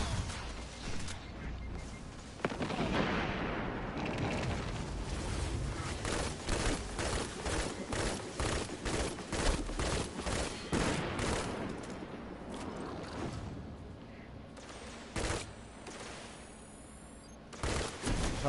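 Rapid gunfire rattles in a video game shooter, bursts of close shots with booming impacts, continuing loud through the whole stretch with brief lulls between volleys.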